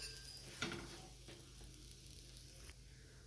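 Chapati roasting on a hot griddle with ghee gives a steady, close sizzle and crackle, with a few soft scraping or pressing touches near the start and again toward the end.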